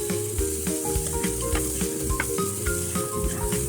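Chickpea sundal with mango and lemon juice sizzles in a pan as it is stirred, giving a close, continuous crackling hiss broken by quick scraping strokes.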